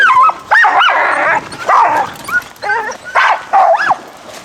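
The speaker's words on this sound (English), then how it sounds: "Two dogs." Two dogs bark close by in a loud burst of repeated yips and bow-wows, with whimpering, high-pitched cries mixed between the barks.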